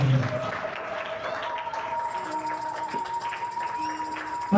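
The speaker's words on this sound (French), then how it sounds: "Acclamons très fort le Seigneur" A church congregation claps together in steady, dense applause that holds at a fairly even level throughout, with sustained tones and some voices blended in underneath.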